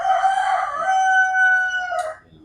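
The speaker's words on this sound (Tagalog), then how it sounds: "'yan ang ating tandang" A heritage-breed rooster on a small farm crows once in a long, drawn-out tonal call, loud and close, tapering off abruptly near the end with quiet surroundings.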